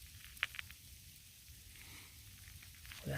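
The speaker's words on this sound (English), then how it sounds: "So it's not just rain, it's sleet." Sleet falls on a mountain trail on Christmas Day, small ice pellets bouncing off the ground with a faint, steady patter and a few sharper ticks, quiet and continuous throughout.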